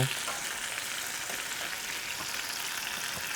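Red onions and tomatoes sizzle in a hot pan alongside steak, giving a loud, steady hiss of frying that carries on through the whole stretch with faint stirring underneath.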